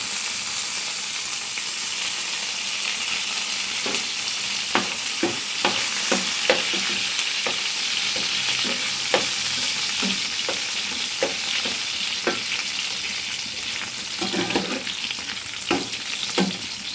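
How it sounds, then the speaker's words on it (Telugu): Mint leaves fry in a hot pan with a steady, close sizzle, punctuated by repeated sharp clacks and scrapes of a stirring spoon; no one speaks. "ఇలా వేగేటప్పుడే కాస్త పుదీనా వేసుకున్నా"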